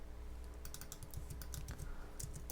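Rapid, irregular clicking of computer keyboard keys typed at a steady pace, close and clear, with a low hum underneath and no voices.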